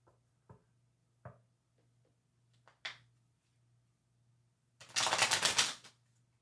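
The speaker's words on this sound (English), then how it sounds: "So I'm shuffling maniacally." A deck of tarot cards is shuffled: a few soft scattered taps and clicks, then a dense, close riffling burst lasting under a second.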